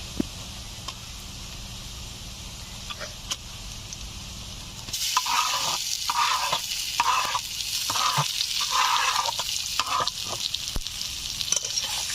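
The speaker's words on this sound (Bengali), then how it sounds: "পেঁয়াজগুলো ভাজা হয়ে গেছে, এখন ম্যারিনেট করে রাখা মুরগির মাংস দিয়ে দিচ্ছি।" Marinated chicken hits a pan of fried onions partway through, setting off a loud, steady sizzle with repeated scraping stirs in a home kitchen; quiet before the sizzle starts, no talking.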